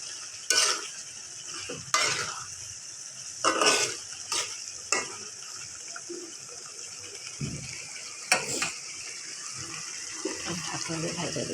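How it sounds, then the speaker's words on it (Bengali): Chicken pieces frying in a pan with pickle masala nearby, stirred now and then: a low continuous sizzle broken by several sharp, close scraping and clattering strokes of the spoon. "মাংসগুলো দিয়ে ভালোভাবে নাড়াচাড়া দিয়ে নেব।"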